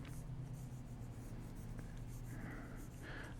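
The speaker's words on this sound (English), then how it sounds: "I'm being super rough with these sketches" A pencil sketches roughly and loosely on paper, giving a steady, close, quiet scratching that runs throughout with no voices.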